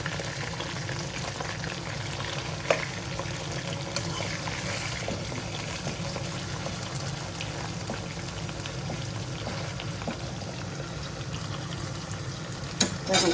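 Fish frying hard in a pan to get a crisp, well-browned crust, giving a steady, dense sizzle with a few small pops and clatters near the end, close and continuous, with no talk.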